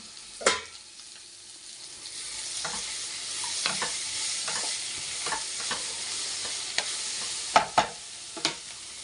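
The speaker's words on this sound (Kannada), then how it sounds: "ಇದು ಅಷ್ಟೇ ಚೆನ್ನಾಗಿ ಫ್ರೈ ಆಗಬೇಕು" Bitter gourd pieces frying in masala in a pan, with a steady close sizzle broken by several sharp spatula scrapes and taps against the pan, and no voices.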